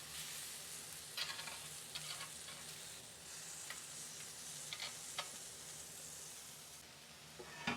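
Halloumi cheese and plums frying in a pan make a soft, continuous sizzle broken by scattered crackles and faint scraping while they are turned, with no voices.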